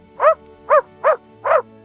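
A dog near a farm gate barks four times in a steady rhythm, each bark loud and close, with quiet gaps between them.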